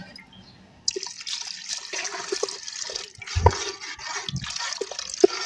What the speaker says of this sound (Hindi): मैंने इसके अंदर 1/2 लीटर पानी ऐड कर दिया है